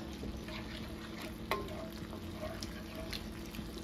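Spaghetti meat sauce sizzles steadily in a pan as water is stirred in, with a spoon clinking once against the pot over the continuous frying hiss.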